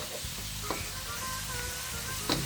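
Ground pork giniling frying with okra in a pan, a steady close sizzle with faint stirring scrapes and a few light clinks, no voices.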